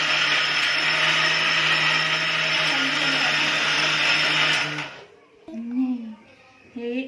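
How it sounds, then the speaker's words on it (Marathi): A mixer grinder blending mango pulp whirs loudly and steadily for about five seconds, then stops, followed by people speaking. "चला आता आपण ही मिक्सरला फिरून घेऊया"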